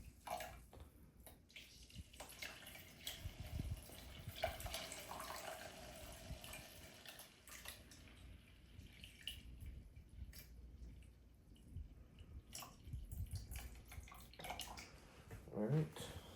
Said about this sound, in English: Turn the pump on. And I usually like to just stay over here because this thing flows down really quick.